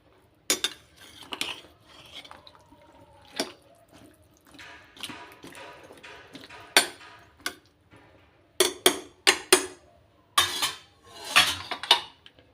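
A ladle scraping and knocking against a metal pot while ridge gourd dal is stirred, giving sharp irregular clinks in bursts with quiet gaps, close and fairly loud.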